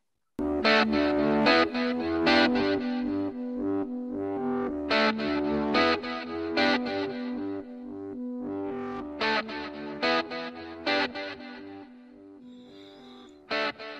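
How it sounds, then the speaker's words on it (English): Strummed electric guitar drenched in echo and distortion effects, chords ringing in repeated bursts with trailing repeats, playing steadily and loud before thinning out toward the end. "I assume there's like an echo effect or a pedal or something on the guitar"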